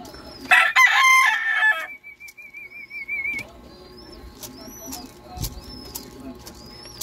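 Chickens and a rooster in a coop, with a loud crowing burst early on, then steady clucking and soft calls carrying on near and clear to the end, with occasional wing flaps.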